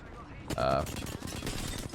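Rapid bursts of gunfire in the battle-royale game Apex Legends, fought from a rooftop, crackling loudly and continuing steadily under what sounds like faint talk.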